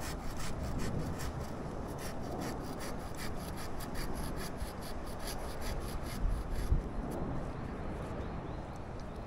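A handsaw cuts through a tree branch on a sideways-growing tree near a house roof, with rapid, rhythmic rasping strokes repeated steadily and close up for the whole span.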